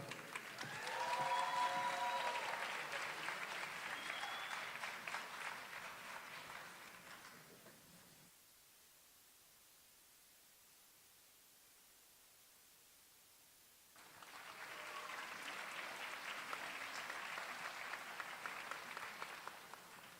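Graduation ceremony audience applauding masters and specialist graduates, a dense wash of clapping for about eight seconds, then a silent gap, then a second sustained round of applause.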